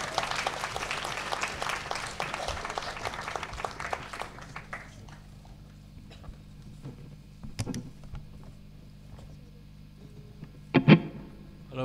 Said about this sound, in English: Please give a massive round of applause for Ben Penny!